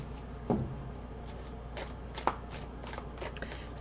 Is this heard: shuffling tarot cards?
yes